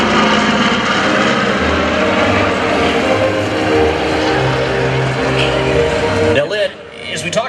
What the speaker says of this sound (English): It's a transport airplane, a C-47.